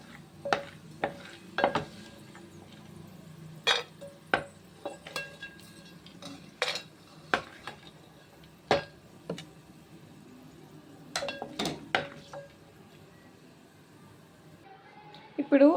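Fried dry fruits for ravva kesari are scraped from a pan onto a plate: scattered sharp clinks and taps of utensil on metal dishware, irregular and close, over a quiet room.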